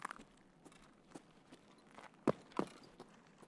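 Footsteps in the game Escape from Tarkov, a handful of soft, uneven steps spaced irregularly, with two sharper, louder footfalls near the end, all fairly faint against a quiet background.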